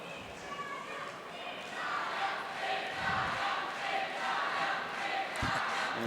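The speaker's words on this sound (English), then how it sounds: "And lots of cheering from Italy for him." A crowd cheers and shouts for an Italian competitor at a world kung fu championship, a steady swell of voices filling a large hall and holding loud through to the end.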